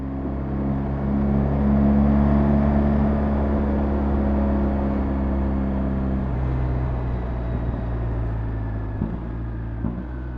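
A BMW R 1300 GSA motorcycle engine on a test ride holds a steady, deep droning hum that eases down in pitch partway through, with wind noise and no talking.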